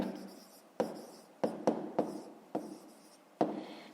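Pen or chalk writing out a maths answer, a handful of short separate scratching strokes with pauses between them, close and fairly quiet, with no talk.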